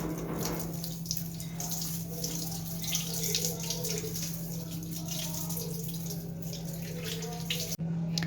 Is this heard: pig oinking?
no